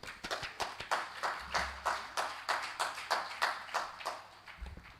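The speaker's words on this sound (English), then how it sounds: "let's give our distinguished panelists a round of applause." Applause for panelists at an early childhood education conference, a small group clapping in uneven rhythmic bursts that rise and fall, fairly close and moderate in level, with no talking.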